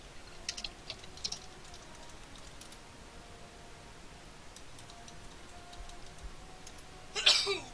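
One sharp sneeze bursts out near the end, close and loud, after soft scattered keyboard clicks during a Dragon Warrior randomizer tournament stream.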